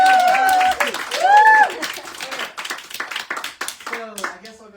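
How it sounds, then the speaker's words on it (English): Audience clapping at a comedy showcase, a burst of applause from a small crowd that follows a loud voice and carries on steadily with voices over it. "more clapping for Kayla."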